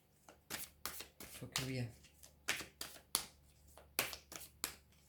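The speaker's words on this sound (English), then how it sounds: "let's draw some cards now for Leo" Tarot cards being drawn and shuffled by hand, a rapid series of crisp riffling bursts and soft slaps close to the listener, with a person speaking briefly between them.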